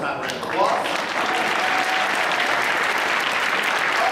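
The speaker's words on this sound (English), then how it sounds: "One more time, round of applause." Sustained audience applause fills a room at a culinary awards gala, loud and steady for several seconds with a dense crowd texture.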